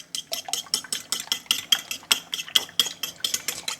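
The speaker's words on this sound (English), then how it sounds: "And whisk it up. I'm just gonna use a fork" A fork whisks cracked eggs with buffalo sauce in a bowl, producing quick, regular clinking taps against the bowl, about four strokes per second, steady and close.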